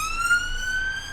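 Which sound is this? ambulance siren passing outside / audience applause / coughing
ambulance siren passing outside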